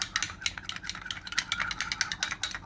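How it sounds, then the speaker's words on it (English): A whisk runs around a bowl of saltfish and corn fritter batter, making rapid rhythmic ticking and scraping strokes close by, steady and brisk throughout, with no speech. "I'm just going to be whisking this all the way around."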